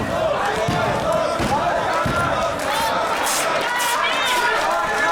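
French fans in a wrestling crowd shout and roar in support of Senza Volto during a four-way match, a continuous loud wall of cheering and chanting with voices rising and falling throughout.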